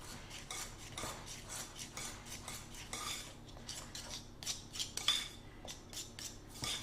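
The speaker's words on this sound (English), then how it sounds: "So I'm just working the egg yolk into the flour and the butter." A knife scraping and cutting egg yolk into flour and butter for custard tart pastry, a quiet run of steady rhythmic metallic scrapes and taps against a bowl, close up with no talking.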